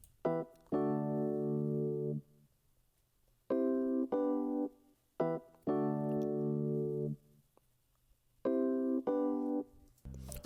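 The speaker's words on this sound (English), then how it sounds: "this E piano was picked from a plugin called Lounge Lizard" An electric piano from the Lounge Lizard plugin plays a repeating pattern of warm sustained chords with short stabs between them, clear and alone with no other sounds.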